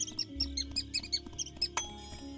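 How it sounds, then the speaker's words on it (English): Small cartoonish mouse squeaks from The Spirit & the Mouse game, a rapid series of short bright chirps over soft background music, with a sparkly chime near the end. "most important of all, a dedicated squeak button"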